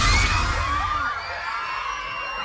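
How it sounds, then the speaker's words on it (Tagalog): Crowd of elementary schoolchildren seated on an open school field in Malita, Davao Occidental, screaming and shouting together during a strong earthquake at a flag ceremony; a loud, dense wall of panicked young voices with a sharp bang at the start. "Sumisigaw sa tawat habang nakaupo sa open field ang mga estudyante ng Mahayay Elementary School sa Malita, Davao Occidental."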